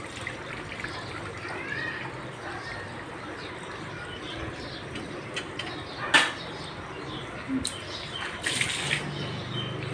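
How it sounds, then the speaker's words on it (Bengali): Water trickles down steadily at a spot in Siliguri, a soft, continuous splashing heard from close by. Faint bird chirps and a few brief knocks sit over it. "সুন্দর জল পড়তেছে"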